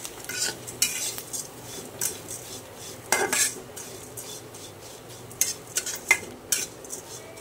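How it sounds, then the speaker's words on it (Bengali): Food fries in soybean oil in a pan, a low hiss beneath frequent clinks and scrapes of a metal spatula being stirred around. No one speaks. "এটা আমি আলাদাভাবে ভেজে নিচ্ছি"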